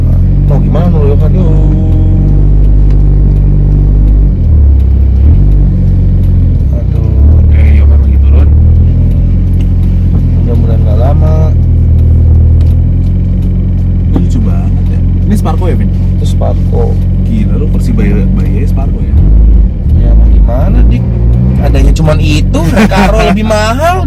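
A Mitsubishi Evo 8 MR engine, built as a stroker, rumbles and revs from inside the car, loud and continuous with rising and falling revs beneath ongoing conversation.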